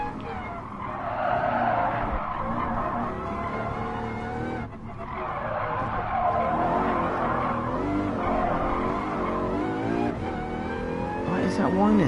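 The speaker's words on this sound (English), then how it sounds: "What is that whining sound? Is that actually my car?" Race cars in Gran Turismo Sport give off a steady, loud whining engine drone with harmonic pitch sweeps as they shift through revs, over constant tire skidding and squeal.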